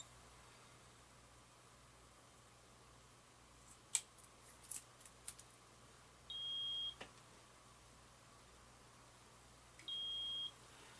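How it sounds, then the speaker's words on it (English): A small electronic beeper from a Fultron model 151250 sounds two clear, sustained high tones a few seconds apart, with faint clicks and rustles before them. "it's working rather well with this little beeper"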